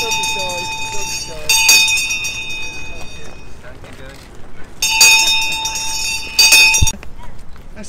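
A town crier's handbell rings out in several loud, bright bursts at an outdoor engagement proclamation, with people talking between the peals.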